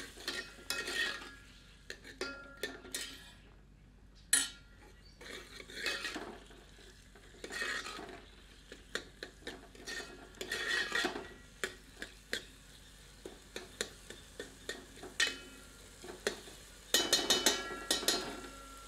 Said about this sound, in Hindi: तत्पश्चात टमाटर सम्मिलित करते हैं। मिलाकर 1 मिनट मध्यम आंच पर भूनते हैं।